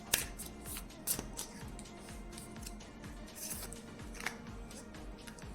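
Tarot cards are shuffled and drawn from a deck for a guidance card, giving soft riffling, sliding and flicking papery sounds at close range, fairly quiet.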